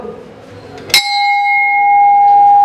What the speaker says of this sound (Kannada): ಇದು ಮಾಮೂಲಿ ಗಂಟೆ ನೋಡಿರುವಂಥ ಗಂಟೆಗಳಿವು. ಈ ಸೌಂಡ್ ಇದೆ.